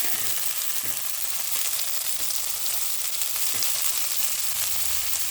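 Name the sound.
chopped mint leaves frying in hot oil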